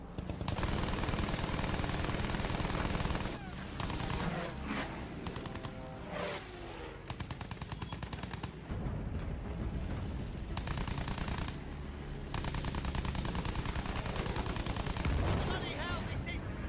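Rapid machine gun fire in the video game Battlefield 1, long dense bursts of shots with brief gaps and booms, loud throughout, with occasional voices in the mix.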